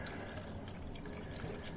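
Water poured from a cup into a pot of poutine gravy mix on the stove, a soft continuous trickling and splashing heard close by, steady and fairly quiet for the whole moment.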